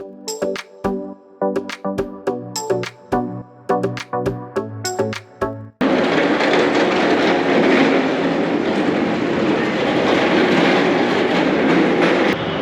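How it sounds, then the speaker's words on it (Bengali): A train passes near a roadside food plaza, first a rhythmic clatter of wheels over rail joints, then a loud, steady roar of carriages rushing past close by. "ভাই ট্রেনটা কি সুন্দর, দেখ"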